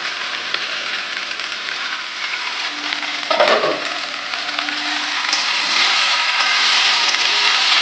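Green beans and drumstick pieces fry with ginger in a pan for a milk-based shukto, a steady bright sizzle with a clatter as they are stirred in, growing slightly louder.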